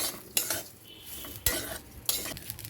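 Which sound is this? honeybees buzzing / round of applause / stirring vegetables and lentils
stirring vegetables and lentils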